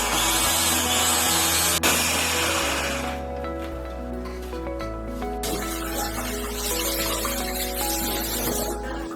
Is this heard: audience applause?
no